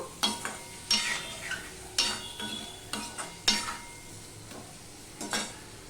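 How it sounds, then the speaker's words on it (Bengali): A tomato and spice masala with prawns and potato sautéing in a pan, where a spatula scrapes and stirs in distinct strokes about once a second over a quiet sizzle. "সম্পূর্ণ মিশিয়ে নিয়ে আমি কষাতে থাকবো"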